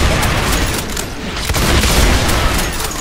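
Gunfire from a first-person shooter video game, heavy booming shots and rumble filling the whole stretch loudly with no voices over it.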